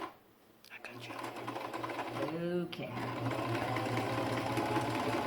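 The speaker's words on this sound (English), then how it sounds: "let me get to the sewing machine and see if I can get that done" A sewing machine top-stitching fabric hums steadily and continuously up close, with a brief spoken word near the start.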